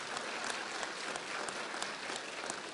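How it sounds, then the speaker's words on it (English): Audience at a Los Angeles County Board of Supervisors meeting gives a round of applause, a steady moderate patter of many hands in a large chamber lasting a few seconds without speech. "Let's give them a big round of applause."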